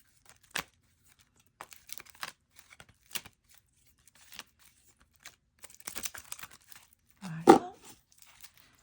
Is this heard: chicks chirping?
no